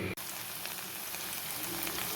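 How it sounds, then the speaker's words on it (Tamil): Potatoes fry in a pan with a steady, faint sizzle that holds evenly throughout, with no talking. "உருளைக்கிழங்கு ஃப்ரை ரெடி ஆகிட்டுருக்கு"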